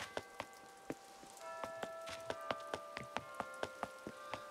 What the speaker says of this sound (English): Oh man, it's starting to rain now.